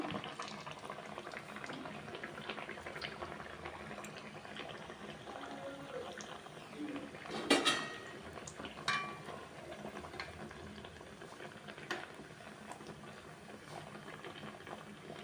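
Sajja burelu, sweet pearl millet fritters, frying in hot oil in a kadai, giving a steady bubbling sizzle throughout with a few brief clatters and louder bursts as pieces drop in.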